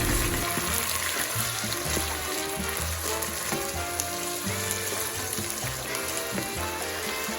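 Black beans, corn and onions sizzling and being stirred in a pan, a continuous close frying crackle with scraping utensil movements throughout, no voices.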